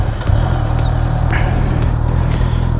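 Honda CBR650R A2 motorcycle exhaust with its stock muffler, idling with a steady, low burbling rumble close by, constant and loud with a faint hiss over it throughout.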